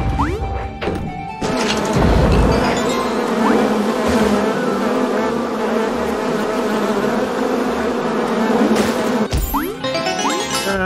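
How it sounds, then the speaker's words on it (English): Buzzing bees swarm loudly in the video game Monster Boy and the Cursed Kingdom, a sustained droning hum broken by sharp crashing hits and game effects at the start and near the end. "Fucking bees."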